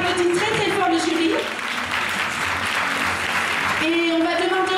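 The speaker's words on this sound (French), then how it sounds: "on applaudit très très fort le jury" An audience at the Miss Ronde Poitou-Charentes 2013 pageant applauds the jury with a brief, dense burst of many hands clapping, loud and close. A voice carries over the start and end of it.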